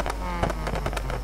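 Mazda RX-7 rotary engine in Need for Speed hitting the rev limiter, crackling and popping in a rapid, continuous burst of loud exhaust bangs over a steady droning engine note.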